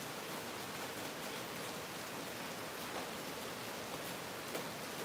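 Steady heavy rain falling in Louisiana, a dense continuous hiss of drops with no pauses, loud and even throughout.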